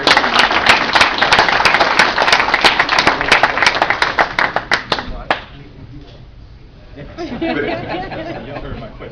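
An audience at a youth citizenship award ceremony claps for the recipient in a thick, lively burst that lasts about five seconds, then thins to scattered claps and gives way to quieter chatter in the room.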